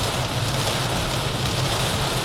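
Heavy storm rain pours down around a moving car, a dense continuous hiss and drumming on the body and glass, loud and steady with no talk.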